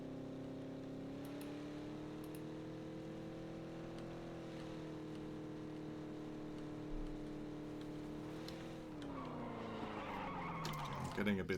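A car in the PUBG video game drives with a steady droning engine, its pitch shifting slightly, before tires skid and squeal near the end.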